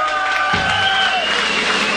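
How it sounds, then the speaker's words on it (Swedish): A concert crowd at a show in Stockholm applauds and cheers, a dense, steady wash of clapping from a large audience with a shout or two rising above it. "Kom igen, ge honom en stor applåd."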